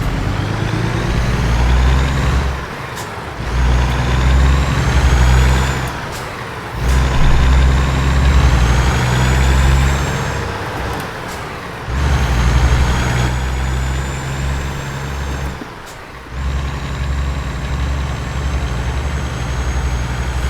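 Kenworth T800 semi truck engine in American Truck Simulator rumbling and revving through gear changes, with brief drops in power between shifts and a steady low drone throughout.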